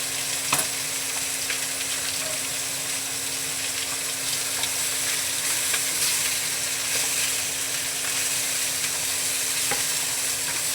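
Garlic sizzles in a frying pan as it is stirred, a loud steady crackle and hiss throughout with a faint constant hum beneath and occasional scraping clicks.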